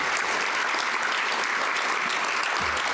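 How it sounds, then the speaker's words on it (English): An audience at a school foundation fundraiser event applauds donors in a room. Dense, sustained clapping from many people continues evenly for the whole stretch. "Can we get a round of applause for the angel donors in the room?"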